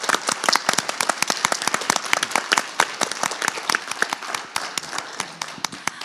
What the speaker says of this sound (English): So a big round of applause for our third place winners.